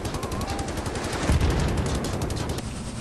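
Dense rapid gunfire from the shooter Wolfenstein, a continuous loud rattle of automatic bursts with a heavier thump near the middle, with no voices over it.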